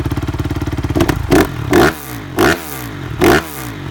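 A four-stroke motorcycle engine idles with a deep chugging pulse, then is revved hard several times in short, loud bursts, close to the microphone.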